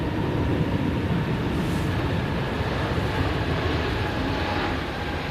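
An airliner taking off at Manchester Airport, heard as a sustained broadband engine roar at a fairly even level with a slight fade near the end and no talking.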